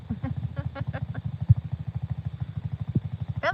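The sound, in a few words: dirt bike engine idling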